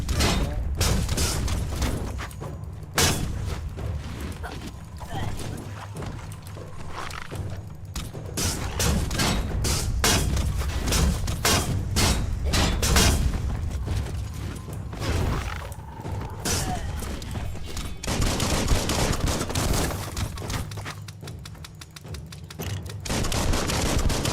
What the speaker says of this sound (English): That's a bomb lobber.